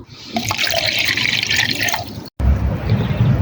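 Cold water poured from a container onto pink NPK 15:15:15 nitroammophoska fertilizer granules, a close, splashing gush that runs for about two seconds, breaks off, then resumes with lower, gurgling pours.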